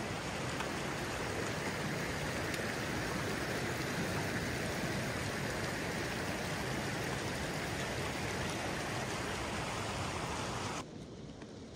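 Clear mountain stream water rushes steadily on the trail to North Annapurna base camp, a constant broadband roar that drops slightly in level near the end.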